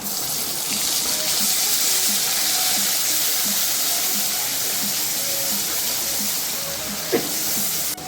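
Whole garam masala followed by ginger and green chilli paste frying in hot oil, a steady, loud, close hiss that runs without pause for several seconds, with one sharp pop near the end.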